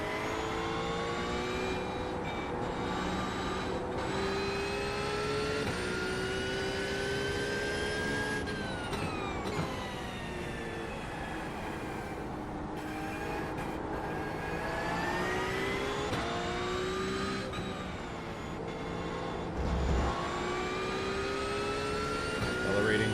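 GT3 race car engine in iRacing at Spa-Francorchamps, revving steadily with rising and falling pitch as it accelerates through gear changes, continuous and fairly loud throughout with no talking.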